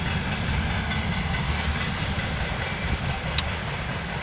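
A steady low rumble of a train rolling by, constant and fairly loud, with a faint high squeal near the end.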